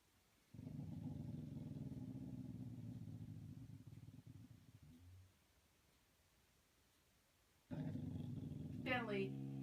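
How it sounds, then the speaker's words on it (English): A dog growls in a long, low, continuous rumble that stops and later comes back, ending in a sharp bark or yelp, recorded close up in a quiet room. "Bad dog. Be quiet."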